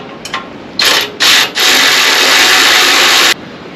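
Bolts on the belt cover plate of an Earthquake rear tine tiller being loosened, a few short close rasping bursts followed by a longer continuous grinding ratchet run, then quiet.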